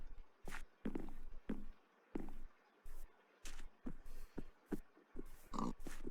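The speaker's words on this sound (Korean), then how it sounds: "돼지 껍질 먹고 싶다." Footsteps patter in a video game in short regular bursts, with a pig's grunts and oinks mixed in, the clicks and snorts clean and close against silent gaps.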